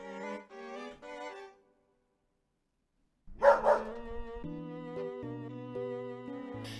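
Companion dog Dogmeat barks in a Fallout game, a few bright barks near the start, silence, then a sharp burst followed by tonal game sounds.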